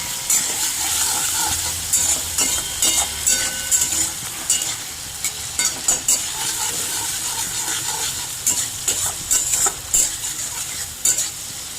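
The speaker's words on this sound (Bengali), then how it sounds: "এটা ততক্ষণ ভাজবো যতক্ষণ টমেটোটা নরম না হচ্ছে।" Tomatoes sizzle and spit in a frying pan for a prawn curry, a steady close hiss broken by repeated bursts of stirring and scraping.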